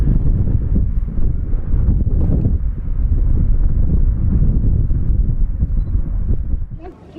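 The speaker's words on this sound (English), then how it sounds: "It's very windy." Strong wind buffets the microphone in a steady, heavy roar outdoors, rumbling low and constant for several seconds before easing near the end.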